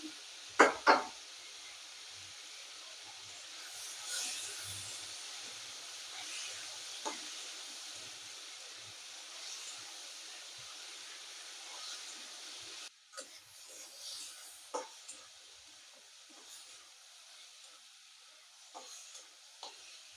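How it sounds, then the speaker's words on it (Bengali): Chopped tomato and filling sizzling together in a hot pan for a Mughlai paratha, a steady close crackle and hiss with occasional stirring scrapes and taps throughout, no talking. "সব কিছু একসঙ্গে কিছুক্ষণ ভেজে নিলাম"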